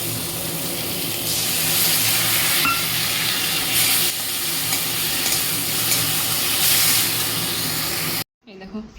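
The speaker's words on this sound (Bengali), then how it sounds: "এই যে আলু টমেটো পেঁয়াজ একসাথে ভাজছি" Potato, tomato and onion frying together in a pan give a loud, continuous sizzle and hiss with stirring scrapes, close up, before cutting off abruptly at the end.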